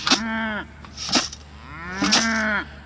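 Cattle moo loudly and close on a farm pasture, three long drawn-out calls spaced about a second apart, with no talk over them.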